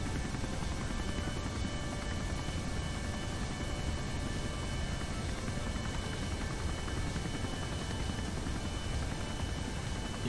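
Helicopter in Kerbal Space Program with its own engine throttle, giving a steady, loud rotor and engine drone that holds unbroken and even throughout, with no speech over it.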